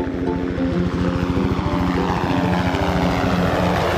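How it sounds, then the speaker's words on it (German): A helicopter's rotor chops with a fast, steady thudding rhythm, loud and close, its engine roaring throughout. "der Hubschrauber fliegt davon"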